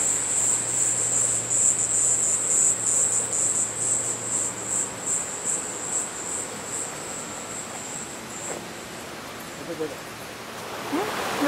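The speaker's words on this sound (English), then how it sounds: "Some nice cicadas." Cicadas chirp in a steady high-pitched drone for most of the time outdoors on a rural finca, fading near the end as other faint sounds and movement take over.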